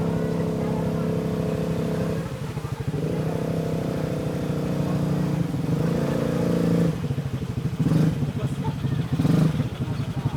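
Motorcycle engine labouring while crossing a river, a steady rough drone with surging revs and clattering throughout, loud and close, as people talk over it.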